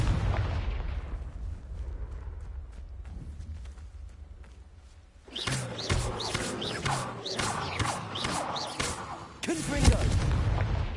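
Confringo blasting spells in Hogwarts Legacy erupt as a sudden run of loud booming explosions after a quieter rumbling stretch, with repeated bursts and a final heavy blast near the end.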